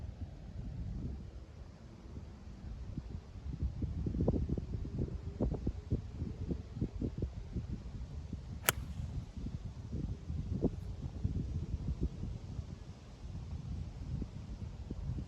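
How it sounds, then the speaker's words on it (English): Strong wind gusting across an open golf course, a continuous low rumble and buffeting against the microphone that swells and eases in irregular gusts, with no talking. "you hear it, it's blowing, 25, gusting 30 off of it"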